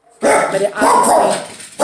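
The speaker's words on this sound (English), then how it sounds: "that's my dog." A dog named Colby barks loudly and close by in a couple of rough, sustained bursts, while someone speaks over it.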